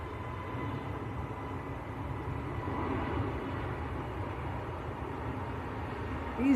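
An EasyJet airliner on its takeoff roll at Manchester Airport, a steady broadband engine roar heard from a distance that holds even and swells slightly toward the end, with no voices over it.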